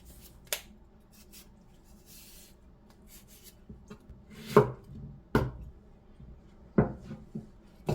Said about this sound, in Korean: 이렇게 쪼개서 일정하게 썰을 거예요